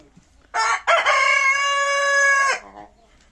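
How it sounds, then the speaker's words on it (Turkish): A single ornamental-breed rooster crows loudly and near, one long sustained call of about two seconds that rises in a short stutter and then tails off into quiet. "horozlar."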